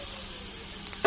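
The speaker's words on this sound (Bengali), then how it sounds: "পেঁয়াজ আদা রসুন ভালো করে একটু লাল লাল করে নেব" Onion, ginger, garlic and chopped chilli fry in a pan for a bottle gourd dish, giving a steady soft sizzle with a brief louder crackle and stir near the end; no talking.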